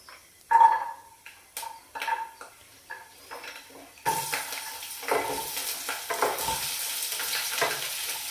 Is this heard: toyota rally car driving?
no